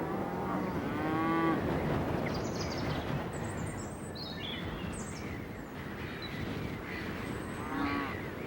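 Cows moo several times, low drawn-out calls, with birds chirping faintly in the background over a steady outdoor ambience.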